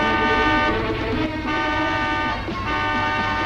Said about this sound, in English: Julia lunged to the driver's side to flick the high beams and honk the horn.